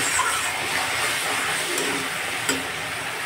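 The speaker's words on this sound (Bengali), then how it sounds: "এই যে মশলাটা এখন আমি কষাচ্ছি দেখো।" Spice paste with chili powder cooks down in a pan for fish curry, giving a soft, continuous hiss with a couple of faint clinks; no voices.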